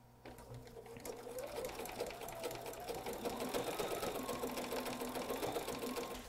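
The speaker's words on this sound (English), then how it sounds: "I'll let the needle hop back and forth left to right to join the strips together" A sewing machine stitching fabric strips together for a slice rug, its needle hopping left to right in a steady rapid mechanical whir that runs continuously, close and alone.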